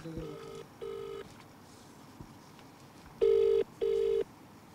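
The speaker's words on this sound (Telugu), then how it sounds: "ఒకసారి మంత్రి మల్లారెడ్డి కాల్ చేద్దాం ఫోన్ లిఫ్ట్ చేస్తారో లేదా" A phone call being placed to a minister's number: a short burst of dialing tones, then two pairs of ringback tones, steady and fairly close, with quiet gaps between them and no talk.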